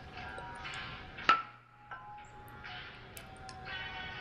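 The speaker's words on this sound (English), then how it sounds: "I am now hammering on the weights while my hand is under them." A hammer bangs on a stack of heavy metal weights resting over a cloth-covered hand: one sharp, ringing clank stands out, followed by a couple of fainter taps against a low background hum.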